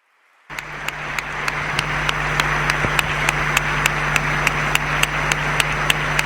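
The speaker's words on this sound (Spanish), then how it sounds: "Larga ovación la que recibe el cardenal don Ricardo Blázquez Pérez" A large audience bursts into long, sustained applause for a cardinal after his Holy Week proclamation, a dense roar of clapping that starts abruptly and holds steady without pause.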